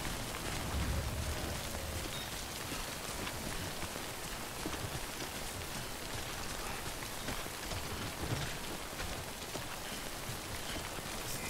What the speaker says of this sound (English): Can this rain stop, please?